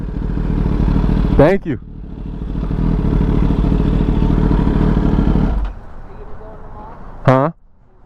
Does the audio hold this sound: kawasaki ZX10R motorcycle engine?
yes